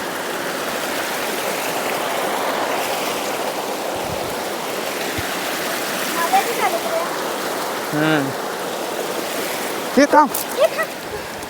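Rain falling by a river in a Konkan village during the first monsoon shower, a steady dense hiss of water throughout, with voices talking briefly near the middle and end.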